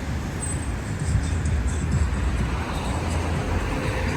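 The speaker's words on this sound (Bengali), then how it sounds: "আজকে গাড়ির চাপ আরো বেশি।" Heavy road traffic on a busy city street in Saudi Arabia, a continuous dense roar of car and bus engines passing close by, steady and unbroken.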